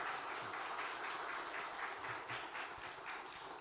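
Audience applause welcoming a pastor to the front at a Wednesday evening church service at a defense university chapel, a steady, even wash of clapping lasting the whole stretch with no voices over it.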